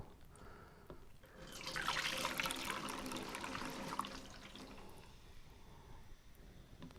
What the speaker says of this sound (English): I'm going to add a little bit of apple juice to it. That'll help it go down the funnel.